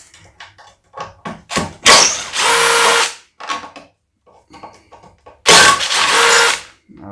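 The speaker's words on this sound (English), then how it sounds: "to get this starter off, I'm going to start with the two Phillips screws here" Power drill backing out Phillips screws on a snowblower starter: short whirring bursts of a cordless drill, two longer sustained runs, between clicks and handling knocks of the screws and housing.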